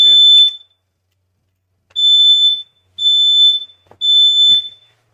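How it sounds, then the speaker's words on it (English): A smoke-style fire alarm sounds with sharp, high-pitched beeps: one beep, a pause, then three evenly spaced beeps, loud and close, with faint background noise between them. "That's fire alarm."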